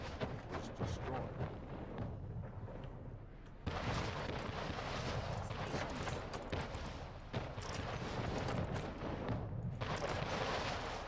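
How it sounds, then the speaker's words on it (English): Dense battle noise from an Anno 1800 naval fight, with rapid bursts of gunfire and booming explosions layered into a continuous loud barrage that surges sharply after a brief lull. "so there's another explosion just there"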